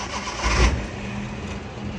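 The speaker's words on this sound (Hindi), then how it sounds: "गाड़ी न्यूट्रल करके आपने इसको स्टार्ट करना है।" A Suzuki Bolan van engine cranks and catches with a short heavy burst, then settles into a steady low idle, close by with no talk.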